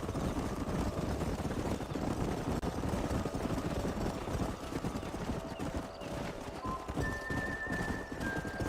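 Horses are driven up a canyon in a Rockstar western video game, their hooves clip-clopping in a steady galloping rhythm. Engine-like rumble and a faint neigh sit under the hoofbeats.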